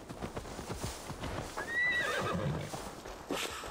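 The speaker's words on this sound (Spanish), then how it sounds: "Ahora llevaremos el caballo a Magni." Horse hooves clip-clop steadily through a game scene in Assassin's Creed Valhalla, with a loud neigh rising midway above the trotting rhythm, no talk heard.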